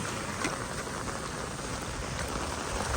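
Steady rain falls throughout in rural Punjab, with roads flooded, a dense even patter on surfaces with no voices.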